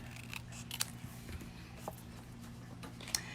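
Scissors trim paper for a handmade card, with a few faint, scattered snips and small clicks over a soft background hum in a quiet room.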